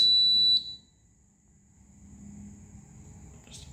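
A fire alarm system under test sounds a sharp high beep at the start and again near the end, with a faint steady tone between and low room hum underneath.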